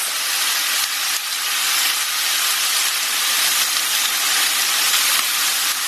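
Oyster sauce hitting a hot wok of broccoli and shrimp stir-fry, a steady loud sizzling hiss that holds evenly throughout with no talking.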